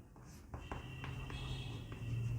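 Marker or chalk scratching out a chemistry formula on a classroom board, a few short faint strokes close by over a low steady hum, with no talking.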